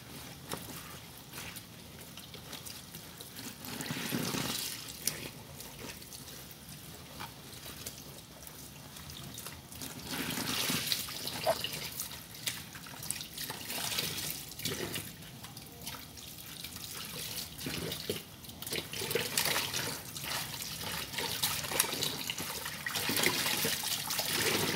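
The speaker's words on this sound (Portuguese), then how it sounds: "agora eu vou enxaguar" Laundry is rinsed by hand under a running tap, with steady gushing water and uneven splashes and sloshes that swell and fade as the clothes are worked, at moderate loudness and close by.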